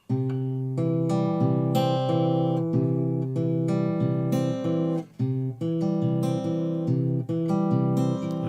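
Fingerpicked acoustic guitar plays a simple pattern with an alternating bass line, bright plucked notes ringing in a steady rhythm, one short pause midway, no voices.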